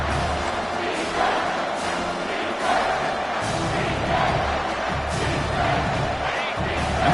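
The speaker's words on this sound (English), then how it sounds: "the crowd coming to life here" A football stadium crowd swells in loud, surging roars and cheers, with thumping noise and rising waves of voices all around.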